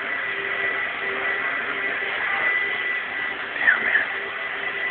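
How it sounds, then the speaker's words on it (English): A neighbour's vacuum cleaner runs across the hall, a steady, muffled drone heard through the walls that holds constant with slight swells. "The vacuum's too loud."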